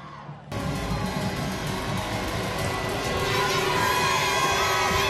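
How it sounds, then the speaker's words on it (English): St. Paul's Saints cheerleaders and crowd cheering at a high school football game against Baldwin County, loud continuous shouting and cheering that bursts in after a brief lull and builds steadily. "cheering on their Saints defense here"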